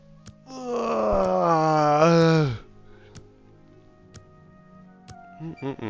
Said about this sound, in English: Just yawning.